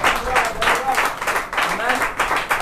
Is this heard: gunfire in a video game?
no